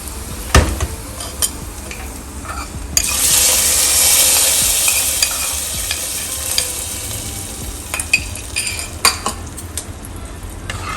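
Hot curry leaf tempering is poured into a jackfruit seed and mango curry, with clinks of a pan and spoon followed by a loud sudden sizzle that fades over a few seconds, then more scattered utensil taps.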